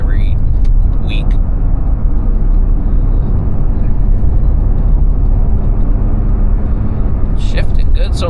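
Old woods truck driving, a loud steady low engine and road rumble from inside the cab, with brief voices at the start and end.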